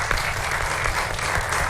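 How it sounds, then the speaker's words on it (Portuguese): A television studio audience on a Portuguese morning show applauds, loud dense clapping that stays steady and full from start to finish, with a low hum of the room beneath and no speech. "Um aplauso para ela"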